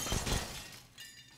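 Glass panes shatter in a Counter-Strike match on the Train map, a sharp, close breaking crash followed by a second fainter burst, with shards tinkling.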